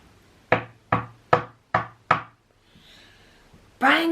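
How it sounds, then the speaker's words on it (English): Five sharp, evenly spaced knocks on a wooden door, loud and close, followed by a short quiet pause and a brief burst of another sound at the end. "someone was still knocking on the door"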